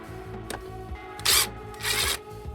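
Screws on a scooter carburetor intake boot are loosened with a Phillips screwdriver, giving close mechanical ratcheting clicks and two longer scraping, grinding bursts over a low idling hum.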